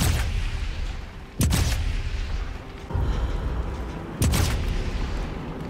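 Gunfire in the video game Sniper Elite 5: three loud booming shots spaced about a second and a half apart, each a sharp blast with a short rumbling tail over steady background ambience.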